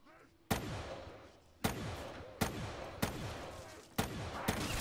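Gunfire in Black Ops III Zombies: five sharp, loud single shots spaced about a second apart, each with a lingering echoing tail.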